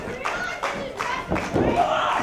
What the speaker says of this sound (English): Crowd seems pretty supportive of Gisele Shaw.